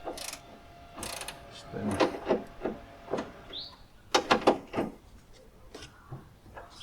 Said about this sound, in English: So taking off this bolt, number 10mm.